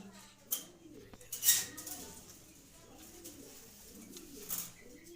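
White racer pigeons coo softly in repeated low, rolling phrases, close but faint, with a couple of sharp brief knocks between the calls.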